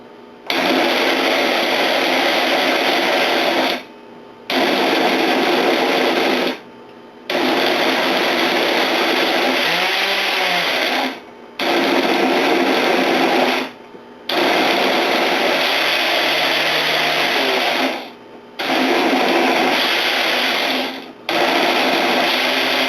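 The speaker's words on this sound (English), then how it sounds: "So this is my new blender." Loud Oyster blender whirring in repeated bursts separated by short pauses as it blends a smoothie with cucumbers, the motor pitch shifting slightly as contents churn.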